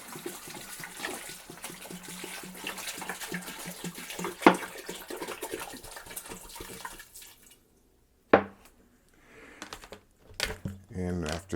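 Filtered water poured by the gallon into a pot, a steady splashing gush that stops partway through and gives way to a few clanks and quieter movement, with someone talking over it.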